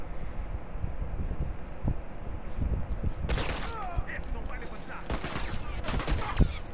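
Gunfire in The Last of Us Remastered multiplayer, with sharp bursts of shots cracking out over low background game noise, several quick volleys toward the end.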